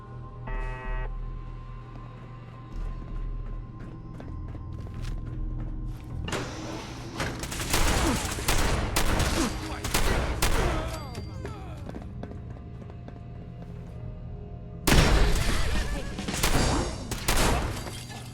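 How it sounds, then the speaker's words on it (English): Repeated loud shotgun blasts fired in Fallout 4, with sharp bursts in a dense cluster mid-clip and another close volley near the end, over steady game background noise. "I do love that we've had this shotgun since the very beginning, and it's just carried us through the whole game. Go blam."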